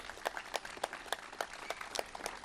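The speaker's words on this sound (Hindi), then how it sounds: "जोरदार ताली बजा दो भाई बच्चे के लिए।" An audience claps for a child at a health and yoga gathering, a brisk run of sharp, fairly regular claps heard at a moderate distance. No one speaks.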